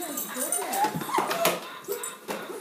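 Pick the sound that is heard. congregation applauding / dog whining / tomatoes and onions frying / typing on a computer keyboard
dog whining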